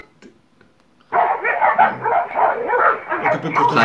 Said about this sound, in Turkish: Köpek kurtarmaya geliyor.